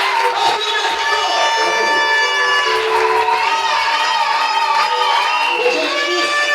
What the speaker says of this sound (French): Acclamez très fort pour le frère.